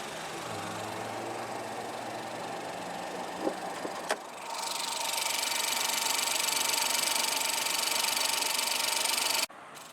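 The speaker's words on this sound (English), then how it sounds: "Powering the front-wheel drive EcoSport is the EcoBoost 1-liter turbocharged inline-3 engine." A 2019 Ford EcoSport Titanium's front-wheel-drive EcoBoost 1-liter turbocharged inline-3 idles steadily, a low even hum that shifts to a brighter, louder whir midway before cutting off abruptly near the end.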